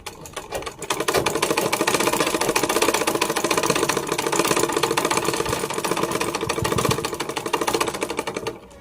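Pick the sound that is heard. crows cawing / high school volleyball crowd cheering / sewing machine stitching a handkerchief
sewing machine stitching a handkerchief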